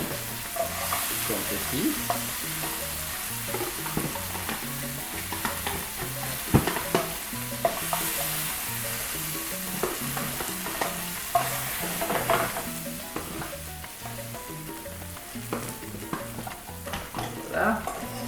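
Tomatoes go into a frying pan with onion and garlic, bringing a constant loud sizzle with repeated scraping stir strokes and a few sharp clatters; a voice speaks briefly.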